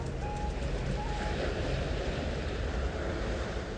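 Sea waves at Soumbédioune, a steady broad wash of surf and wind noise, moderately loud and continuous with no talk.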